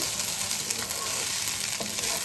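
Rice frying with raisins in a pan for prawn pulao makes a dense, steady sizzle, with faint scraping stirs now and then and no voices.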